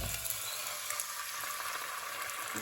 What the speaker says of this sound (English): Oh, you hear it sizzling?